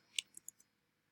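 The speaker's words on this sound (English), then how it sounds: "I'm going to double click this exit button" A computer mouse is double-clicked on an on-screen exit button, giving a few quick, faint, sharp clicks in a quiet room, then silence.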